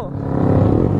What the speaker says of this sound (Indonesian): sambil teriak sambil geber-geber knalpot